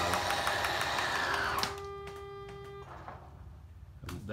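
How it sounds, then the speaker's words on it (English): Slide-out motors on a 2017 Jayco Jayflight 33RBTS travel trailer, a steady mechanical whir and grind close by that stops abruptly, followed by a few faint clicks and a lingering tone as the motors resynchronize. "that was the motors resynchronizing themselves."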